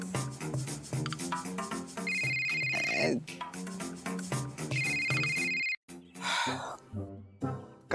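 A telephone ringtone plays for an incoming call, a repeating electronic melody with bright beeping tones that comes in bursts, cut briefly by a silent gap before resuming.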